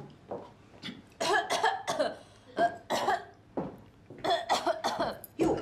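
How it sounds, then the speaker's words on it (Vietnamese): Repeated harsh coughing fits from a person, several bursts in quick succession with brief pauses between, loud and close, with no speech. "Sao vậy? Sao lại ho rồi?"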